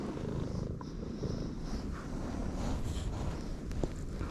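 A cat purrs steadily and close up outdoors in winter, a continuous low rumbling drone with faint rustling and no talking.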